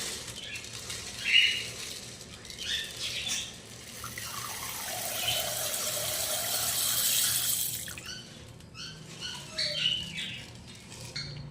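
Red masoor lentils are washed in a bowl of water, giving soft, continuous swishing and trickling with a few louder splashes, fairly faint and close.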